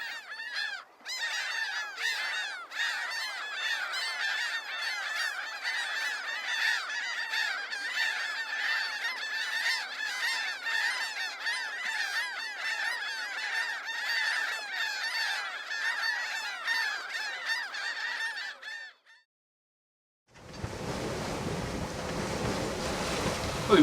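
Seagulls call noisily from their nesting colony on Mount Ifach, a dense chorus of overlapping honks and squawks over wind and surf for about twenty seconds, then a brief hush before a rush of wind noise.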